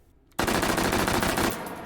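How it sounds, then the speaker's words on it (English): An H&K MP5K fires full auto, held pistol style, in the VR game H3VR: a sudden loud stream of rapid shots after a brief near-silence, running about a second before dropping into a ringing echo tail. "Our first full auto test with an MP5."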